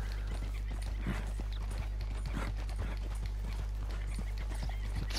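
A horse's hooves clip-clop at a walking pace in Red Dead Redemption 2, irregular close thuds over a steady low hum, with a brief whinny-like sound among them.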